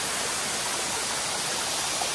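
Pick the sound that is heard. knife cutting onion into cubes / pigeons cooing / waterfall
waterfall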